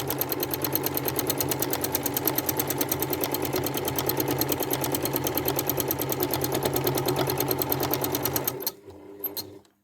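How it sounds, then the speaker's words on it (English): A sewing machine stitches a quilt in a stippling pattern, a close, steady, fast needle rattle running evenly before stopping abruptly near the end, followed by a few faint clicks. "We're going to get stitching, not moving too fast."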